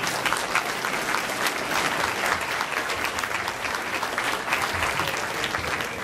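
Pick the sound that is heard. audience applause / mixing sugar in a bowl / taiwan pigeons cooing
audience applause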